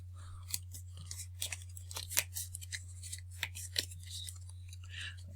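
Playing cards riffled and handled during a Lord of the Rings card game session, a string of quick crisp snaps and rustles over a steady low hum, fairly close and moderately quiet.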